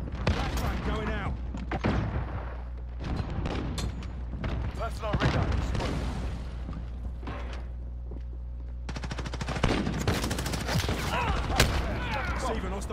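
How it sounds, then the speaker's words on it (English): Call of Duty gunfire crackles in rapid bursts and sharp single shots, loud and close, over a constant low game rumble with people talking throughout. "Receiving hostile fire."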